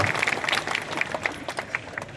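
An audience at a concert claps for the singer, a dense continuous patter of many hands that thins toward the end, fairly close and with no speech over it.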